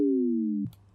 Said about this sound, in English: This one, for example, is made out of 2 pitch sine waves, each one of them playing a different note, and both of them going through the same pitch envelope.